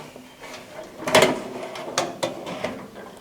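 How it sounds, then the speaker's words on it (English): A metal drawer sliding into a Vevor rolling tool cart during assembly, a few close scraping rattles and a soft knock as it runs along its slides. "we're going to slide our drawers in here"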